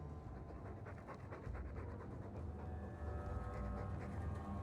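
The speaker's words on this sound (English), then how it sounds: "All that noisy dog breath, day in, day out." A dog panting in the game Dragon Age II, a quick, steady huffing rhythm close by over a low indoor room hum, with no talk.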